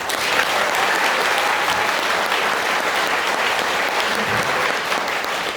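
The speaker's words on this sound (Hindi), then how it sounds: "तो अपने हेल्थ के लिए एक बार ताली बजा सकते हैं आप" Audience applause fills a seminar hall in Greater Noida, a dense, steady clapping from many people that sustains loudly for several seconds without pause.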